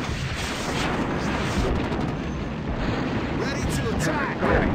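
Artillery fire in the WWII strategy game Sudden Strike rumbles as a dense, continuous wash of booming barrages and distant blasts, loud and sustained across the whole stretch, with no clear pauses.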